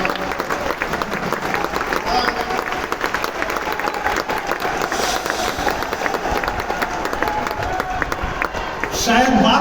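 An audience at a live Hindi poetry recital in Raipur, Chhattisgarh breaks into sustained applause, steady dense clapping filling the hall with crowd murmur underneath, swelling louder at the very end.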